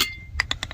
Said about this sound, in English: take your lug wrench, stick it in, and crank the lug nuts counterclockwise